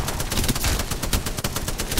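Rapid automatic gunfire in a video game, a dense, loud stream of closely spaced shots hammering without pause for a couple of seconds, close and dominant with no talk.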